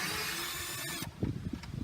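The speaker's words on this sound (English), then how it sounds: "I'm just going to put them in my drill and take off number 1." Cordless drill fitted with a T30 bit backing out a screw from a 1998 Saturn SW1 rear door panel; steady motor whir for about a second, then stops and gives way to rattling handling and scraping noises.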